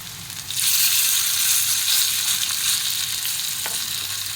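Small fritters of gram flour and flattened rice batter drop into hot oil, breaking into a loud, close sizzle that holds steady and bubbling, with no voices.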